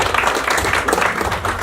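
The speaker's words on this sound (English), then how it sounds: "Round of applause for our candidates." A hall audience at a Law Society of Kenya presidential debate in Eldoret claps steadily for the candidates, a brief dense patter of applause.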